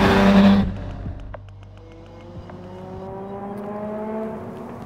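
A Lamborghini supercar engine accelerates hard after a loud opening burst, its rising, whining engine note climbing steadily through the gears, close and alone.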